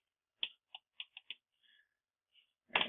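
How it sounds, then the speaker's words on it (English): Several quick, crisp keystrokes on a computer keyboard, tapped one after another at close range, followed by a slightly heavier final key press. "So we're going to type in Pi"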